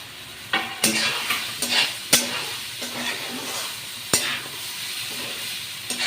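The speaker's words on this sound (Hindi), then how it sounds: "साबूदाना ऐड करने के बाद मैं इसे पूरी तरह से भूनूंगी।" Sago pearls roasting in a pan over a fairly high flame for sabudana khichdi, a steady sizzle broken by a series of sharp spoon scrapes and knocks against the pan, close, with no talking.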